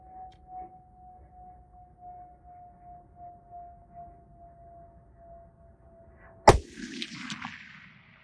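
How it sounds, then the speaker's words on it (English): A single sharp rifle shot fired at 2-liter plastic bottles outdoors, a loud crack with a short ringing tail that follows several seconds of quiet broken only by a faint steady tone. "I'll take a couple shots at those 2 liters and see if I get lucky."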